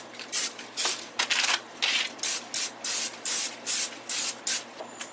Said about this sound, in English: Then I spray it with some spray.